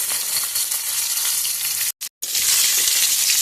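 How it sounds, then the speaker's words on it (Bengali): Pieces of fish fry in oil over an outdoor cooking setup shielded by tin sheeting, giving a loud, dense, continuous sizzle that cuts out briefly for a split second midway before resuming. "আর এরকম মাছগুলো বাজা হয়ে যাচ্ছে আমার"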